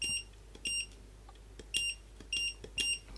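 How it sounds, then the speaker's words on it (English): Short, high electronic beeps from an AiXun CM30 automatic soldering tip cleaner sound in small clusters, sharp and clear against a quiet background, repeating irregularly over a few seconds. "That beep is irritating."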